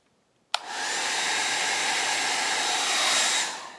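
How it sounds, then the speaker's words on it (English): A hairdryer is switched on abruptly and blows steadily for about three seconds over a multicolour resin Dutch pour, close and loud, then winds down at the end. "It's been a while since I used the hairdryer"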